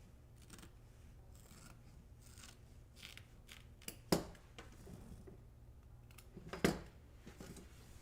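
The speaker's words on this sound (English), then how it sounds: "I'm just going to use my regular embroidery scissors" Regular embroidery scissors trim fabric on an embroidered bunny, giving sparse, quiet close-up snips with two sharper, louder cuts against soft background hum.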